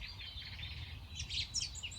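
Several birds sing and chirp in a New Jersey park, high bright calls overlapping and repeating at a fair distance over a low background rumble, with no talk.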